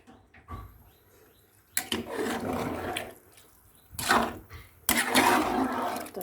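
Water is poured from a bowl into a pot of vegetable biryani gravy in three loud, gushing pours separated by short quiet gaps, each rushing and splashing close by.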